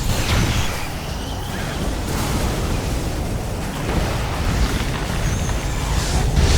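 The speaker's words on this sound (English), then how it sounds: "Use the ion cannon to eliminate the base." Ion cannon strike on an enemy base in Command & Conquer 3: Tiberium Wars, a dense roaring blast rumble that rolls on steadily and swells toward the end, with no talk.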